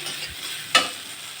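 Greens fry in a pan with green banana, papaya and potato under a quiet, even sizzle, then a single short, sharp scrape of a stir lands near the middle.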